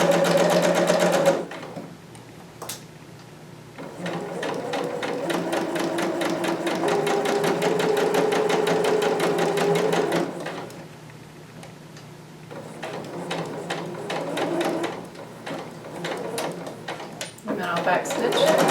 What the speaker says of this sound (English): I'm stitching that dart and just tapering to the last dot